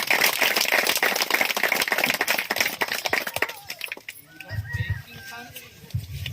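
An audience at a Christmas gathering applauds as a speaker comes onto the stage, dense clapping that fades out after about four seconds, followed by a voice speaking.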